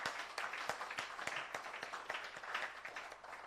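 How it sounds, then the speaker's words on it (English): Audience applause at a website and online marketplace launch event, a steady wash of many hands clapping with sharp individual claps standing out, moderately loud and continuous throughout. "let's just clap for her once again"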